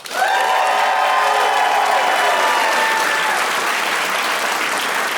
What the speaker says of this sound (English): I see a lot of white dudes clapping